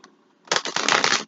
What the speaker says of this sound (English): as I was shuffling my cards,